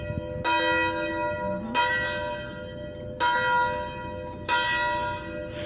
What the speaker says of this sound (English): The bell rings an approximate B note and weighs around 805 pounds.